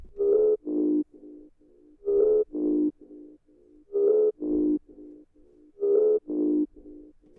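A Serum synthesizer preset plays a short melodic phrase of shifting notes, looping about every two seconds, clean and steady with no other sounds.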